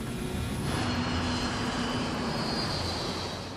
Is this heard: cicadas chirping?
no